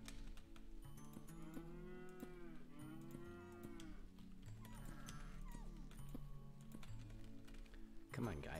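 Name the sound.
cow mooing in a video game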